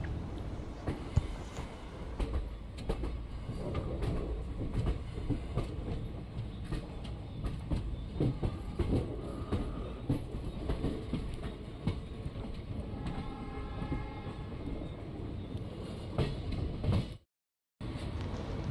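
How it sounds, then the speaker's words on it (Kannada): Indian passenger train running on rails near Hotgi Junction, a steady rumbling roll with rhythmic clicks and clatter heard from inside the coach, briefly cut to silence near the end. "ನಮ್ಮ ಟ್ರೈನ್ ಈಗ ಒಟ್ಟಿಗೆ ಜಂಕ್ಷನಲ್ಲಿ ಜಂಕ್ಷನ್ ರೂಟ್ ತೆಗೆದಿದೆ."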